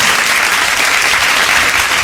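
Steady, dense applause from a gathering at a student honours ceremony in a garden venue, filling the short stretch evenly with no voices.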